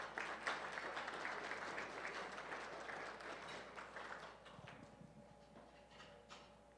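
An audience at a medical lecture applauds the speaker, a full burst of clapping that starts strong, then thins out and fades over a few seconds, leaving scattered claps and quiet room noise.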